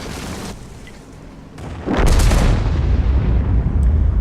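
A heavy tank cannon booms in World of Tanks as the Maus fires, a single loud blast with a long rumbling tail over background game noise.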